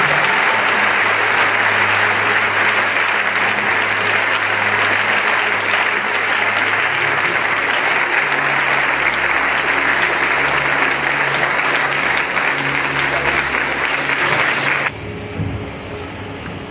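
Sustained, loud applause from a large audience at a bishop's investiture ceremony, steady for about fifteen seconds before dropping off suddenly.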